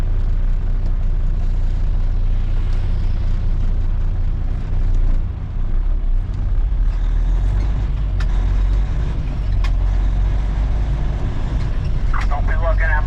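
Heavy low rumble of a semi truck with an older trailer, likely a Cummins N14 engine, steady and close as it makes a right turn, with a short hiss late in the clip and faint background noise.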